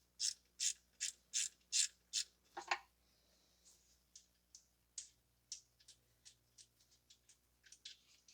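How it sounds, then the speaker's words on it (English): A ratchet loosens a 10 mm nut on a Toyota Corolla alternator, giving a row of six crisp, evenly spaced clicks followed by a quicker, fainter string of clicks, close and alone. "We're going to remove the 10 millimeter nut."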